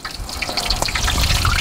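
Beer-battered oysters frying in hot oil, a steady dense bubbling hiss with scattered crackles and pops, close and continuous throughout with no talk.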